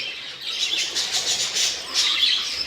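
Budgerigars chirp continuously in a breeding aviary, with a bright, busy flock twittering close by and no speech.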